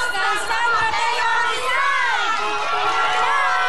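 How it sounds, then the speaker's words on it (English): Girls' cheering team from San Mateo, Rizal chanting and shouting together in loud, high-pitched voices, a continuous energetic group yell close to the microphone. "Marinig na po namin ang inyong cheering."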